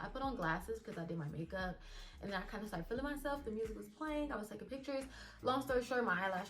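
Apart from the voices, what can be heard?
No distinct noise like a dog, phone or traffic.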